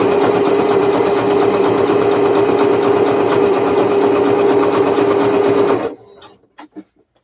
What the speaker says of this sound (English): So I'm just going to stitch right along each edge.